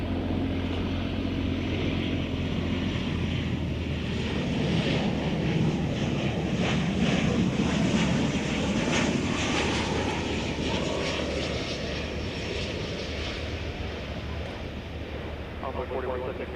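A passenger airplane takes off from runway 18 left at DFW Airport, producing a loud, sustained engine roar that swells and holds for the whole stretch, with wind buffeting on the microphone.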